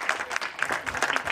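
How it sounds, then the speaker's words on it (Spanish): Brief audience applause for the magician Mago Valen at a live show, a loose scatter of claps from a modest crowd, moderately loud and fairly close, with no talk over it. "aplauso también para el Mago Valen"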